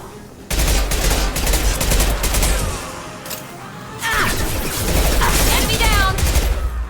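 Bursts of automatic gunfire from combat in the video game Mass Effect 2, loud and sustained in two long volleys split by a short lull, with sharp whizzing weapon effects, in a fight against the Blue Suns.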